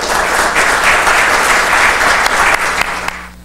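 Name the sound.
audience applause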